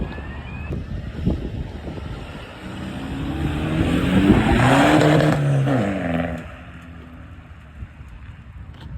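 A car arrives at an outdoor show-and-shine car show, its engine rising and revving as it passes nearby, then fading, with wind noise and background outdoor sound.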